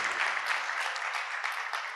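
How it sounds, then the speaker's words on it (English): An audience at an evening talk gives a round of applause for themselves, a steady dense wash of clapping held evenly for a couple of seconds with no voices over it. "Please, one more round of applause for yourselves."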